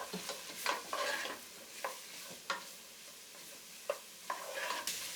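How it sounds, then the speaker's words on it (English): Carrots for Trinidad fried rice sauté in a pan, a soft sizzle broken by several sharp spatula scrapes and stirs at irregular intervals, close but fairly quiet, no voices. "You're gonna saute this for like 5 minutes"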